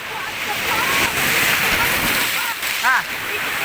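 Rough sea waves washing at a beach, a constant loud rushing and sloshing of surf with brief voices calling out over the water noise.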